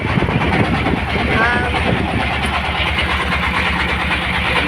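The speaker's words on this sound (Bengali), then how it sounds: "ধীরে বৃষ্টি বৃষ্টিতে নৌকায় ঘুরছি আমরা" A trawler boat's engine runs steadily in the rain with a low, rhythmic chugging throb and a constant rattle, fairly close, while people talk over it.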